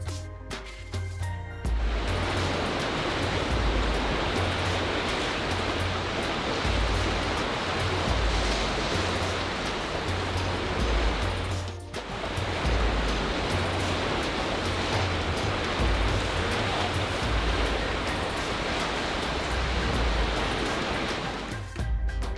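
Ocean waves breaking on a warm-water Sri Lankan surf beach, a loud continuous rushing wash with two brief dips between long surges, no voices present.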